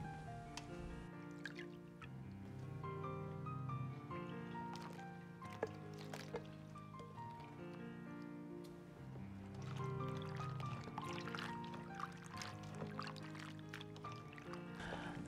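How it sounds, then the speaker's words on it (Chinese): Oyster mushrooms being washed by hand in a basin of lightly salted water, with soft sloshing, squishing and dripping sounds running steadily throughout, set against a background of faint music. "用淡盐水清洗能够很好的去掉平菇表面的一些细菌和虫卵残留，最好是清洗两遍以上。"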